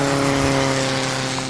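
Formula Vee race car engine at the Kirkistown circuit, a steady close droning buzz with strong harmonic tones holding level for the whole stretch, no voices over it.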